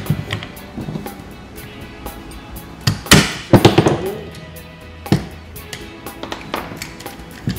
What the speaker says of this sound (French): vous positionnez avec un tournevis, un marteau et vous retirez